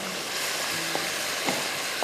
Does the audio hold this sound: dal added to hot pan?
yes